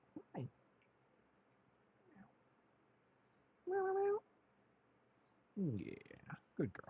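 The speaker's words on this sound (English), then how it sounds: "Hello, fuzzy cat." A fuzzy house cat meows several times nearby during a live crafting session, with short cries spaced across a quiet room and a longer, louder yowl, followed by a burst of two or three meows at the end.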